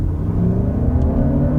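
A 2023 Lexus RX500h accelerating hard from about 25 mph, a loud, steady close engine and road rumble inside the cabin, with no talk.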